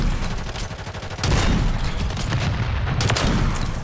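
Loud MORS sniper rifle shots in Call of Duty: Modern Warfare 3 multiplayer, a dense series of sharp cracks and booming reports spread over a few seconds with heavy low rumble between them.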